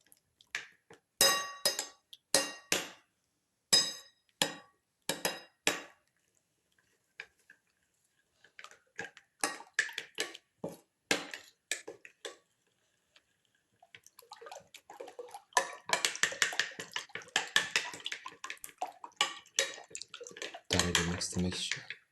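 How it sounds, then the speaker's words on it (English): Egg mixture for a cucumber and tomato omelette being whisked in a bowl, heard as quick, light ticking taps of the whisk against the side in short bursts separated by pauses, close but fairly faint, with no talking. "Mix, thoroughly mix, and let the mixture froth."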